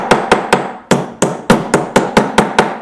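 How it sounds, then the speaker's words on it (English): A plastic mallet strikes a metal stamping blank resting on a pounding block, about eleven sharp, loud thwacks in a fairly steady rhythm with brief gaps. No one speaks. "use a plastic mallet"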